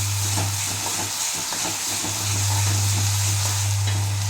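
Chicken coated in ginger garlic paste fries in a pan for biryani, giving a steady close sizzle with stirring scrapes throughout, no talking, and a constant low hum underneath.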